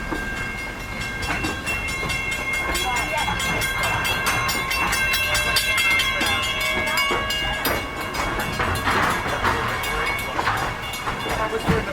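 A Walt Disney World Railroad train rolls along steadily, its continuous rumble and wheel clatter loud and close throughout, with faint tonal whistle-like harmonics riding over the running noise.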